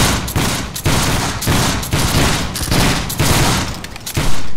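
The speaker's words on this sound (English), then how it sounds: "fire by file from the right." Soldiers of a 29th regiment fire muskets by file, a rolling series of loud, close gunshots cracking out one after another in an uneven rhythm, with no talking.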